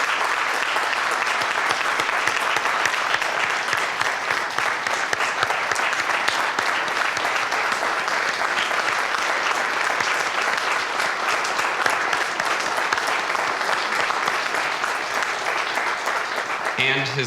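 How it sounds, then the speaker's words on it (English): Audience applause for a city manager emeritus at a State of the City address, sustained and dense from start to finish with a steady wash of many clapping hands. "Can I get a round of applause for our city manager emeritus"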